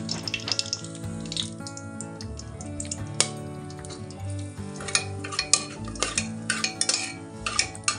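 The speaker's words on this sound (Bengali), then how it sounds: "সবার প্রথমে দিয়ে দিচ্ছি হচ্ছে জিরে, জিরে আর গোটা গরম মশলাটা দিয়ে নিয়েছি" Whole cumin and garam masala spices dropped into a pan of mixed white oil and ghee, giving close metallic clinks and stirring clatter with a steady low sizzle, no talking.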